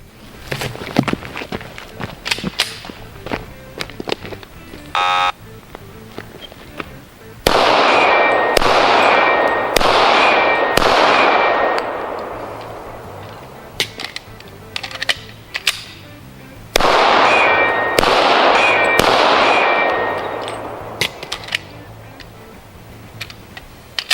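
A .40 caliber Rock Island Armory 2011 double-stack pistol fires two rapid strings of sharp shots, each hit answered by a ringing steel target at a shooting range, with scattered clicks and handling noise between strings.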